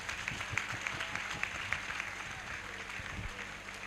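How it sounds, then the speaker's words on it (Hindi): A church congregation clapping during a Sunday prayer service, a muffled, rhythmic patter of many hands with a faint crowd murmur behind it, fairly distant and low. "ताली बजाकर यार।"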